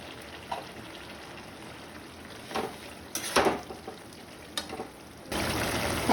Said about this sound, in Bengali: এখন আমি এই চিংড়ি মাছটা দিয়ে দেবো।